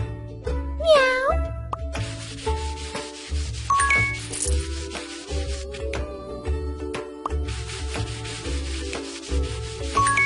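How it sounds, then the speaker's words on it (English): A single cartoon cat meow from the Lily & Kitty Baby Doll House children's game rises briefly near the start, followed by game music with chimes and dings throughout. "Meow."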